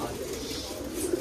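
Pigeons at a backyard loft coo softly during morning feeding, low throaty calls repeating close by over a steady background murmur.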